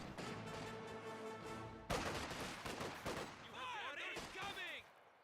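Bursts of rifle and machine-gun fire strike a Grenadier squad in the World War II strategy game Company of Heroes 2, with repeated volleys and crashing impacts blended with battlefield noise, and a commentator's voice running underneath.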